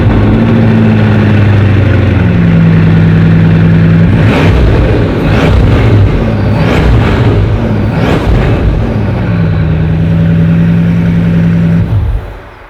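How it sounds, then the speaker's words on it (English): A Bugatti Divo's W16 engine fires up loud and close, settles into a deep idle, then blips through several sharp revs before cutting off near the end, with no talking. "So let's just start this up and see exactly how loud the Divo is."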